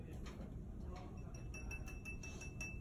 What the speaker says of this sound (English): It makes that ting sound, kind of like if you tapped on glass